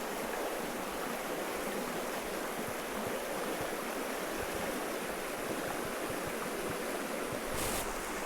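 A stream with a strong current runs over a rocky bottom in a slot canyon, a steady, close, full rush of water that goes on without pause and without voices.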